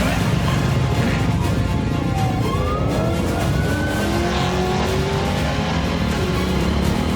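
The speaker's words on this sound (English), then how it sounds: "When the first race truck comes through, the danger level goes up 100 times." An off-road race truck speeds past during a desert race with a loud, continuous engine roar that rises and shifts pitch as it passes close by.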